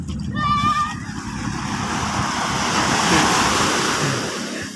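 Sea waves wash and roll along a shore, a broad hiss of surf with wind buffeting the microphone, loud and steady throughout, with a brief high whinny-like squeal near the start.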